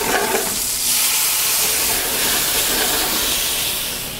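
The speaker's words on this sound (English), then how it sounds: "Here, I'm going to add a little bit of cognac." Pepper-crusted steak sears loudly in a hot pan as cognac hits it, a steady broad sizzle and hiss of steam rising and holding for several seconds with no voices.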